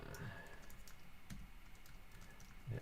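Typing on a Mac keyboard, a steady patter of soft clicking keystrokes picked up from a short distance away, faint against a low room hum.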